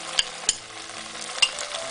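Smoked fish and garlic sizzle in hot oil for palabok, a steady frying hiss broken by a few sharp clicks of a utensil stirring against the pan.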